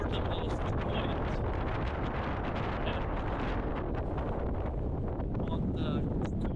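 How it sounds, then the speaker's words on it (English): Strong, gusty wind at Malta's northernmost point by a coral lagoon, roaring steadily and loudly across the microphone with constant buffeting and no pauses. "It's blowing like crazy. Can you hear the wind?"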